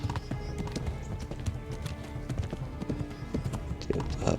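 A horse's hooves pound in a fast, steady rhythmic gallop on the ground in Kingdom Come Deliverance, close and continuous, with a faint snort near the end.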